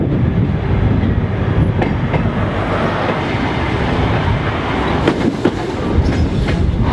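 A loud train rumbles steadily past while arriving at a station platform, its wheels clattering in an irregular rhythm over the rails, with no voices.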